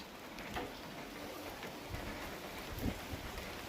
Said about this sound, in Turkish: Nasıl yağıyor nasıl?